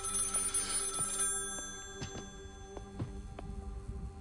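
An old telephone rings in the horror video game Maid of Sker, faint repeated bell tones over a low humming, throbbing ambience, with no voices.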